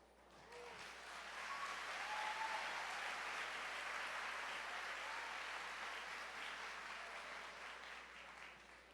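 A church congregation applauds during a sermon, the clapping rising to a full, sustained roar and then slowly fading, with faint voices mixed into the crowd.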